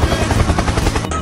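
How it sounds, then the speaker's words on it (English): Loud, fast rotor chop of a helicopter in a Roblox game, a rapid thumping beat that holds steady for just over a second. "helicopter, helicopter."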